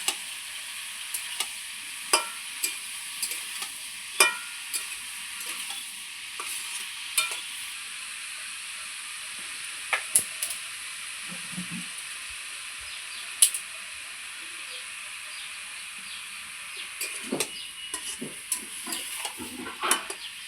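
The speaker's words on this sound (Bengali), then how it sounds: "চাল কুমড়োটা খুব সুন্দর করে নেড়ে নিলাম" Ash gourd fries in a pan with a soft continuous sizzle while a spatula stirs it, giving scattered light taps and scrapes, faint and close, with no talk.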